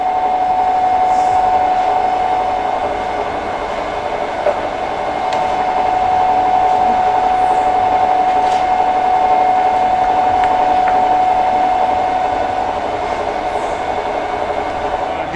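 An HPSM all-gear-head universal milling machine running in fast movement, a loud steady mechanical hum with a constant whine and occasional faint clicks, unbroken throughout.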